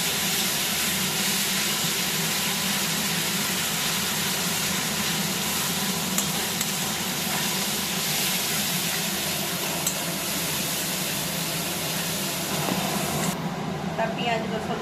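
Onion and garlic frying in a pan, giving a continuous close-up sizzle and hiss with occasional stirring, running steadily under someone talking.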